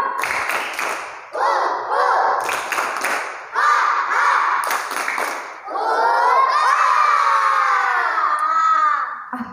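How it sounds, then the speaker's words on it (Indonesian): Children in a class with their teacher shout and clap the tepuk semangat cheer together, loud and close, in bursts of rhythmic claps and voices that swell into a long sustained group shout. "Miss cek tepuk semangatnya"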